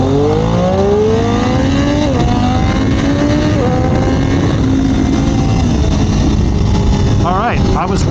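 A 2021 Triumph Daytona 765 Moto2 motorcycle pulling hard at full throttle, loud engine howl climbing through the revs with quick gear shifts and a final rising burst, heard up close under wind rush.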